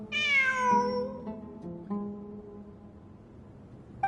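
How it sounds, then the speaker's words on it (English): A cat meows in the Genshin Impact video game, one long drawn-out meow followed by a couple of shorter, softer mews, close and clear with no talking. "It really is a cat."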